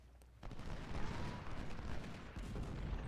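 Musket volleys in the Ultimate General Civil War video game, a sustained crackle of massed rifle fire beginning after a short quiet lead-in, rolling and uneven at mid distance, with no voices over it.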